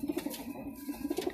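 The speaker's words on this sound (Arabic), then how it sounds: "الحمامة الهزازة دهي ودهي" Fantail pigeons cooing in a rapid, rhythmic series of soft, throaty pulses, close by, with no voices.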